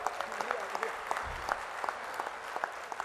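Faint audience applause at a book launch for a Samaveda translation, scattered distinct claps forming a light steady patter, with some voice beneath.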